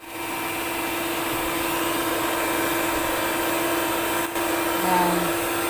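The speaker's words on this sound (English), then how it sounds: "Go mixer." An electric mixer beats banana cake batter with a loud, steady motor whine that runs continuously and close, with a brief dip near the end.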